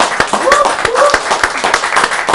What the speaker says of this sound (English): Let's give Jean a round of applause for coming up.